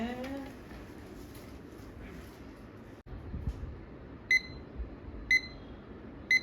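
A wristwatch alarm gives three short, evenly spaced electronic beeps about a second apart, faint over quiet room hiss.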